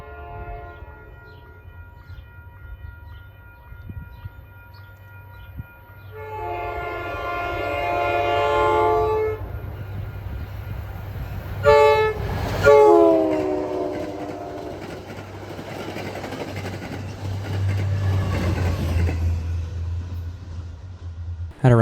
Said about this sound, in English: the same commuter train that just passed heads back to Boston